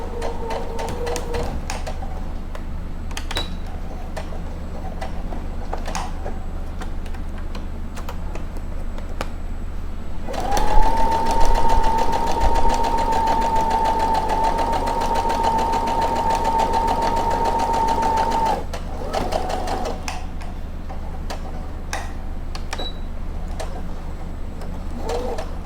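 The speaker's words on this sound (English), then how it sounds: "So now we're going to sew a stitch right across." A sewing machine runs a line of stitching across a patch pocket with flap, a steady whirring hum lasting about eight seconds, with quieter clicks and fabric handling before and after.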